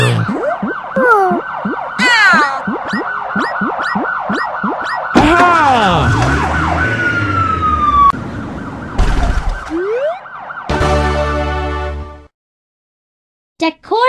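A loud electronic police siren from a kids' vehicle learning video game wails and yelps in rapid sweeping cycles, changing patterns, then cuts to near silence at the end.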